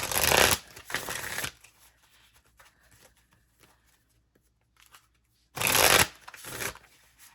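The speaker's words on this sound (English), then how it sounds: "I'm going to start shuffling the first deck." A deck of playing cards is riffle-shuffled close by in two loud bursts, one at the start and another near the end, with near silence and faint room noise between them.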